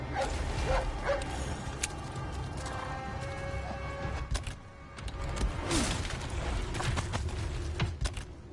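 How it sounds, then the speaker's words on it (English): A dog barks several times in the video game Resident Evil 4 Remake, with sharp yelps over a dense, continuous game soundscape of rumbling ambience and scattered crashes. "Hey, that dog."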